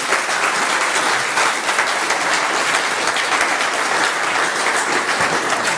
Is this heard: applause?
yes